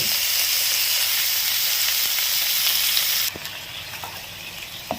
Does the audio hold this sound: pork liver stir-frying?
yes